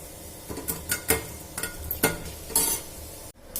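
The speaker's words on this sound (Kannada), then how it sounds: "ಈ ಥರ ಬೇಯಿಸ್ಕೊಂಡು ಒಗ್ಗರಣೆ ಮಾಡ್ತಾಯಿದ್ದೀನಿ" Tempering spices frying in a pan while being stirred, soft sizzling under a series of quick scraping and clinking strokes from the stirring, fairly close and quiet, with no talking.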